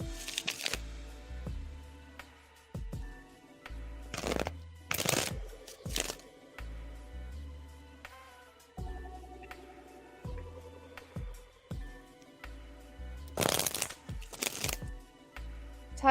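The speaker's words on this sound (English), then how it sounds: "We are shuffling for the Gemini" Tarot cards are shuffled by hand in a quiet room, with intermittent bursts of riffling and sharp flicking snaps separated by softer shuffling and pauses, close and fairly faint overall.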